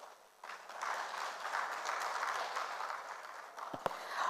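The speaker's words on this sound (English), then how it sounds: "A warm round of applause for the representative of the DG NITDA, Dr. Aristotle Onumor." Audience at a tech conference in Africa claps steadily, a continuous patter of applause that swells after a quiet start and holds at moderate loudness, with a couple of sharper claps near the end.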